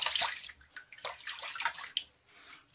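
Tap water runs close by in short splashing bursts while a razor is rinsed after a vintage-style wet shave, with no talking.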